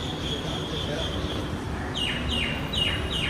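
A small bird chirps several times in short descending notes over steady outdoor background noise in Dubai, fairly close.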